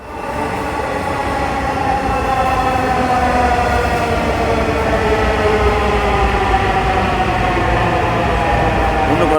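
A Dhaka metro rail train running, heard from inside as a loud, continuous rumble and roar with steady rising and falling whine tones from the motors, unbroken throughout with no talk.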